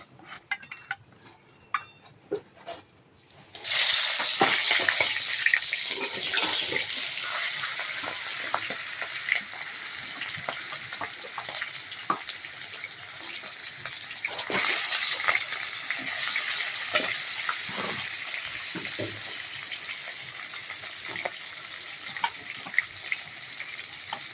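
Fish heads sizzling in hot oil after being dropped into a pan one by one, a loud steady frying hiss with crackles and occasional clinks of utensils, no talking.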